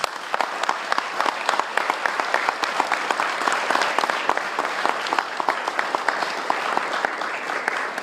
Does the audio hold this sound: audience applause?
yes